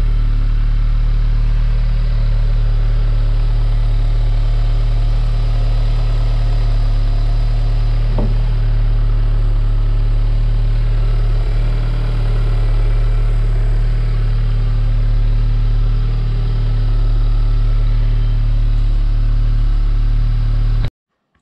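An Audi S3 8V engine idles steadily nearby, a constant deep hum with a fixed low pitch, holding unchanged for about twenty seconds before stopping abruptly.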